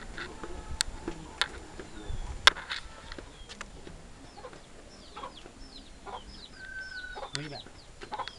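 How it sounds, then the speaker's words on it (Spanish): A hen clucks in short, repeated bursts close by on a farm in Cuba, joined by scattered chirps of other birds and occasional knocks, all fairly quiet against a soft outdoor background. "Mira la gallina esta, ¿sí? Mira la gallina."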